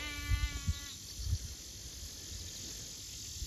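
Sheep grazing in a pasture, with a single close bleat near the start followed by soft munching and a steady high insect chirr in the background.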